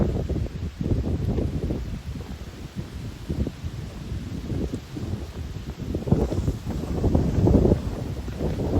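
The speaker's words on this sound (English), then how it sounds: "It's windy today." Heavy gusts buffet the microphone with low, rumbling roars that rise and fall unevenly throughout, with no voices heard.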